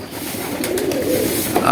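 Pigeons preparing to nest and lay eggs coo in low murmuring calls nearby, moderately loud and continuous, while a person talks over them.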